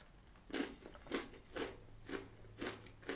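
Someone biting into and chewing Choczels pretzel snacks, with six crisp crunches in an even rhythm, each one close and distinct against near silence.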